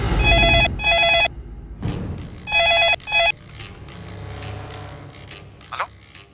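A telephone rings in two bursts of electronic double trills, each loud and close, followed by quieter shuffling and mechanical creaks.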